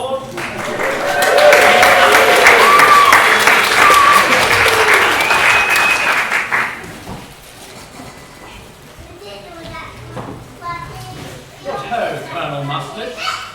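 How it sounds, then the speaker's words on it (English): Loud, dense applause from an audience at a school playground show, rising quickly and holding steady for several seconds before thinning out, with chatter and children's voices continuing after it fades. "give her a huge round of applause"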